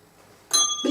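A small bell rings once with a bright, sustained ding marking a correct answer in a quiz, loud and clear against quiet background.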